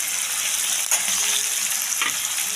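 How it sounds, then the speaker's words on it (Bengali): Fried rice with capsicum sizzling steadily in a pan, a continuous close crackle with a couple of brief stirring scrapes, no voices. "ভাজা হতে থাকে।"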